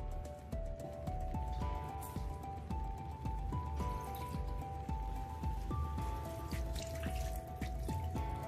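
Water is poured into Chettinad chicken masala in a pan, giving a steady wet dripping and trickling sound with light sizzling, continuous and close throughout.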